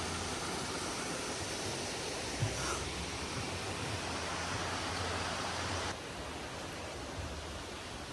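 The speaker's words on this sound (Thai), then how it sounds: "มีน้ำตกด้วย" Waterfall beside a forest hiking trail in Shizuoka, Japan, a loud continuous roar of rushing water that fills the whole scene without pause.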